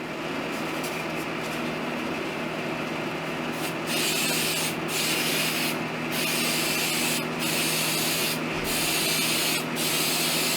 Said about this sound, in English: Now I'm going to spray some 3M adhesive for my foam that sits on top.